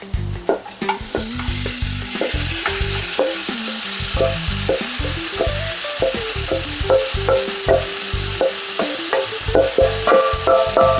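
Green beans sizzle loudly in a hot pan, a steady bright hiss throughout with repeated scraping and clattering as they are stirred, no talking.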